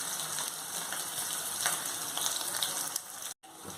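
Ginger garlic paste sizzles and crackles in a hot pan for a Bengali home-style chicken curry, a dense steady frying hiss with a brief cut near the end.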